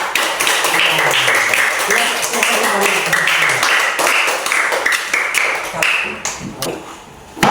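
Children applaud a classroom presentation, a dense burst of clapping that runs for several seconds before thinning into a few scattered claps.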